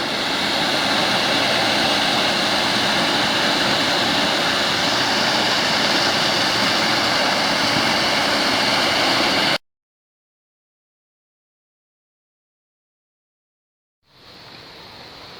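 Water rushes through Dedham Lock on the River Stour navigation, a loud, steady roaring wash that stops abruptly into silence, then returns more faintly.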